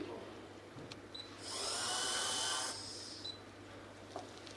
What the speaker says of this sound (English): now we are again drilling with this